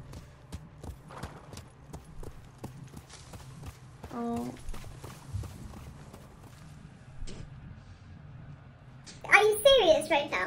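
Rapid clip-clop of horse hooves at a steady gallop in the video game Ghost of Tsushima, with a whinny and a burst of game sound effects near the end.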